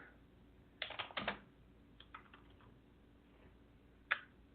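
Computer keyboard typing, faint and sparse: a few short clusters of key clicks separated by quiet gaps, with one louder isolated tap near the end.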